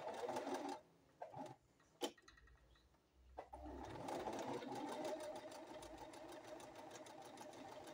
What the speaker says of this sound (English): sometimes you have to help the cloth through when you sew